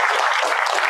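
A short burst of dense audience clapping at a school event, loud and continuous for under a second with no pauses.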